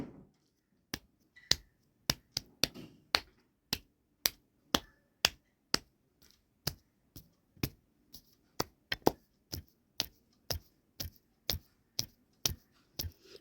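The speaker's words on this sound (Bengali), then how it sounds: "হাতটাকে একটু গোল করে নিয়ে আস্তে আস্তে তালির মতো করে দিয়ে মারুন" Gentle clapping on the body with a cupped hand, a long series of crisp, close single pats at a fairly steady, unhurried rhythm with no talk.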